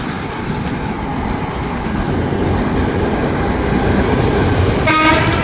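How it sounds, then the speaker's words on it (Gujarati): A train passing close by in snowy, rainy weather, a loud continuous rumble and rattle of wheels on rails, with a brief horn toot near the end. "જો રેલગાડી જાય"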